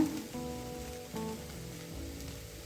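Ginger-garlic paste and spices sizzle and crackle in hot oil in a pan while egg sukka is cooked, a steady close fizzing with a few sharper pops and stirring knocks.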